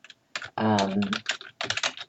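Steady typing on a computer keyboard clatters in quick irregular bursts while a person talks over it, fairly close and clear.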